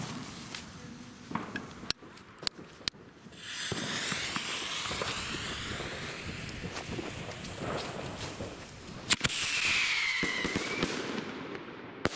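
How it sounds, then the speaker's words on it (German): A 3-inch Silvertail to Silver Strobe firework shell by Klasek, fired on New Year's Eve alongside P2000 crackers and rattling cartridges: sharp bangs, then a long hissing, crackling rush with a whistling tail, loud and fairly close. "eine weitere 3-Inch Silvertail to Silver Strobe von Klasek"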